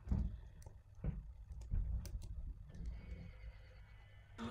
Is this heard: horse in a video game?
yes